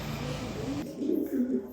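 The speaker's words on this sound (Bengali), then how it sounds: "এখানে 2 পিস নর কবুতর দিলাম।" Two male pigeons coo close by, a short run of low, throaty, rolling calls that swell in the second half, with a faint trace of voices behind.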